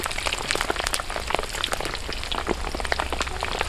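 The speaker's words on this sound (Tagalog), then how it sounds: "Ingat po sa talsik ng mantika." Pork belly chips fry in hot oil at an outdoor cooking setup, a continuous close sizzle dotted with sharp, irregular pops and spatters throughout.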